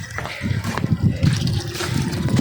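Water flows and splashes at home as a household supply arrives and fills, a steady gurgling trickle with brief louder surges, close by and continuous.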